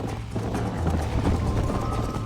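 Horse galloping in the Red Dead Redemption video game, a steady drumming of hoofbeats under continuous game ambience and music, loud and close throughout.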